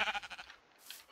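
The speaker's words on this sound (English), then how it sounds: "Why is there a black sheep?" A black sheep in Minecraft bleats once in a short, wavering, pulsing cry, fairly quiet, followed by a faint higher chirp.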